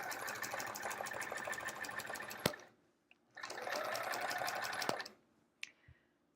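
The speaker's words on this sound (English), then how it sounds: "So we'll sew this one last double, the other side of this double, and then we'll stop." Sewing machine stitching quilt pieces in two bursts of fast, even whirring, separated by a pause, with sharp clicks where it stops and starts.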